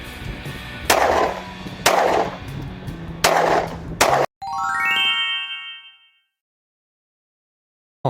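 Four sharp gunshots, fired one-handed, crack out about a second apart. A bright metallic ringing follows and slowly fades into silence.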